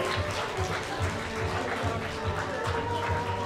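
An audience at a candidates' event claps as the candidates walk onto the stage, a loud, continuous wash of applause with rhythmic music pulsing underneath.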